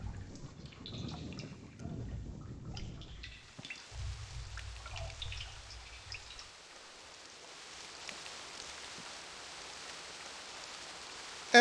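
Water draining from a chest in realMyst, a steady soft rushing and trickling wash that runs continuously and tapers slowly, with a low gurgle early on.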